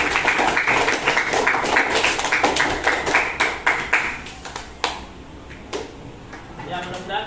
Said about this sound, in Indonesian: Ya, tepuk tangan untuk kita semuanya.